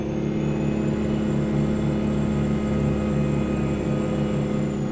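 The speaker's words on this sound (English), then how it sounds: "You can hear the turbos in the background there when it's not screaming." Mack R truck with a two-stroke supercharged engine in American Truck Simulator, its turbos whining faintly behind a loud, steady, droning engine roar that holds level throughout with no talk.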